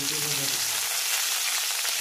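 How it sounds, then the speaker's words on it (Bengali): Steady, close sizzling of onions frying in hot oil with whole cumin seeds and chillies, a continuous crackling hiss throughout with no voices. "ভালো করে একটু লাল করে ভেজে নেব।"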